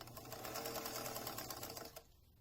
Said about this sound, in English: go back stitch all the way up to the top using a 1/2 inch seam allowance and a straight stitch